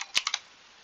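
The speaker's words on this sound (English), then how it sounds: "type in reset." A few quick keystrokes on a computer keyboard while entering a Linux command-line instruction for an Arduino, three close, crisp clicks followed by quiet.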